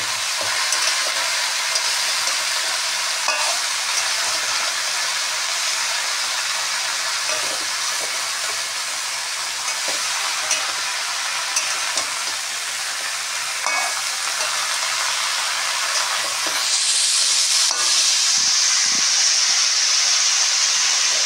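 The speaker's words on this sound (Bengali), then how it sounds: "কষে জল দিয়ে দেবো।" Young pumpkin greens sizzle and fry steadily in a pan, with stirring scrapes throughout and a louder burst of hissing steam near the end as water goes in; no one speaks.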